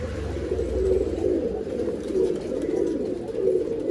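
Mundi Chini pigeons coo in low, rolling repeated calls close by, a steady throaty cooing from several birds that pulses every half second or so with no talking over it.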